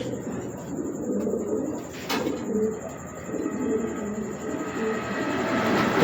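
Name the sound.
pigeon cooing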